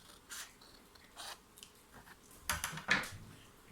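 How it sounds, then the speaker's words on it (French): Paper being cut near the tab of a handmade scrapbooking tea box, a few short dry snips and rasps, close and fairly faint, with quiet pauses between strokes and the strongest cuts near the end. "il faut qu'on coupe là, vers la languette"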